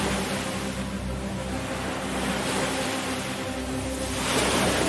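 Sea surf washes steadily below the seaman's cemetery at Sète, a soft continuous rush of waves with a slight swell toward the end and no voices.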